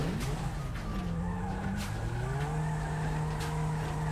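Tires squeal in GTA V as an RX7 or Lamborghini accelerates from a standstill against a lamppost, a sustained rising screech over steady engine drone lasting the whole stretch.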